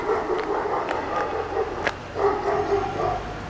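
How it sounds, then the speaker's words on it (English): A dog barks and yips a few times at a moderate distance, short sharp calls over steady background noise. "dog attack."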